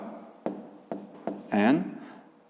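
Pen writing on paper during a fifth-grade maths exercise, several short scratchy strokes in quick succession followed by a longer scribble, close and fairly quiet.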